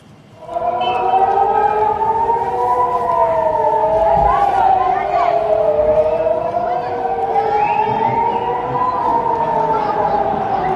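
Air-raid sirens wail loudly and continuously during an Iranian missile attack on Israel, several overlapping rising and falling tones sweeping together over a faint crowd murmur.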